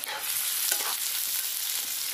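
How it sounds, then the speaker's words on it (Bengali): Onions frying in a pan for bread chicken pakora give off a steady, close, continuous sizzle that never lets up, with no voices. "পেঁয়াজটা খুব ভালো করে আগে ভেজে নেবো"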